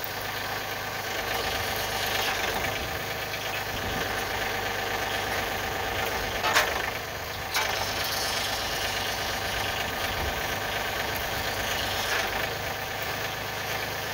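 A tractor idles steadily with a Westendorf brush crusher grapple mounted, its top jaw closing under joystick hydraulic control; a constant mid-pitched engine hum runs throughout, with a couple of brief clanks midway.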